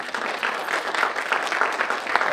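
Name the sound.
congregation applauding, hand clap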